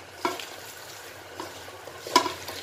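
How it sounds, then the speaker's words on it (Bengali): Small fish curry ingredients being kneaded and mixed by hand, giving a few soft, quiet squelching and slapping sounds at irregular intervals. "এখন এটাকে খুব ভালোভাবে একটু মথে নিতে হবে হাত দিয়ে"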